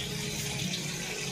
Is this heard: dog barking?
no